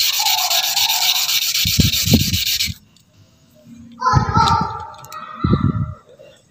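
Steady abrasive rubbing of an agate stone against sandpaper, continuous for a few seconds, then a pause and shorter bursts of scraping with a faint voice in between.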